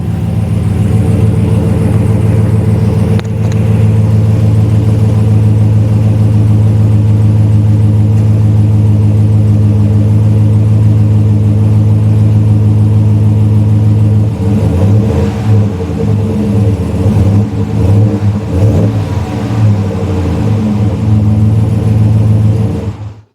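A fifth-generation Ram pickup with a B2 Fabrication resonator and muffler delete kit idles with a loud, deep, steady drone. Later it revs in several rising and falling surges before settling, close to the exhaust and with no talking.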